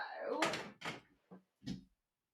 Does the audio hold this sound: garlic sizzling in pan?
no